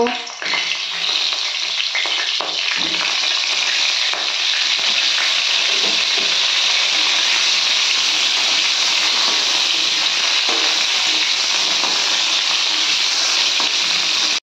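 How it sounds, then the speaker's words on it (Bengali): Cauliflower florets fry in hot mustard oil with a loud, dense, continuous sizzle that stays even throughout, plus a few louder spits near the start. "তেলটা গরম হয়ে গেছে, এই তেলের মধ্যে আমি ফুলকপিগুলো ভেজে নেব।"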